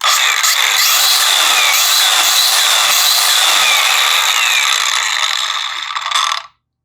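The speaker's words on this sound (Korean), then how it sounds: "그라인더가 돌아갈 때도 굉장히 안정적이에요." A DeWalt DCG414 cordless angle grinder runs at full speed with a loud, steady high-pitched whir for several seconds, then cuts off abruptly and goes silent.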